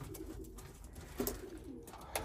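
Racing pigeons coo softly in their breeding loft, a few quiet low coos over faint background noise.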